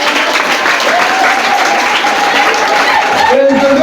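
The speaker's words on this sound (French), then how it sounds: "Je veux qu'on applaudisse pour eux." Audience at a Catholic school prayer and solidarity day applauding for the teachers, sustained crowd clapping, fairly loud and continuous, with a voice rising faintly above it near the end.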